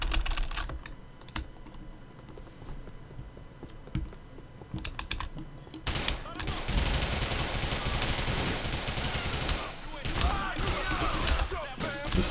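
Rapid bursts of gunfire from the video game GTA IV crackle in dense clusters over a busy in-game backdrop, with a brief quieter stretch before the firing swells again near the end.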